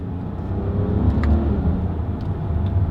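A 2018 Volkswagen Passat GT sedan with a naturally aspirated V6 and a DSG dual-clutch gearbox accelerates, giving a steady, loud, low engine rumble and whir heard from inside the car, with no talking.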